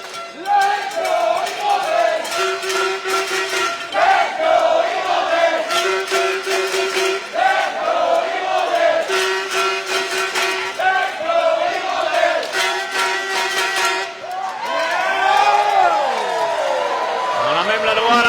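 A crowd at a U16 championship match during a timeout, chanting and cheering loudly with rhythmic clapping and bursts of music, steady and close throughout, with a voice calling over it.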